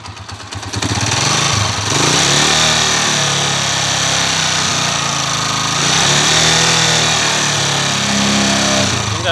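An uncle's motorcycle from Santo Domingo, Nueva Ecija, with a noisy timing gear and clutch damper, is revved hard and held at high rpm, a loud continuous engine roar close by after a brief rough start.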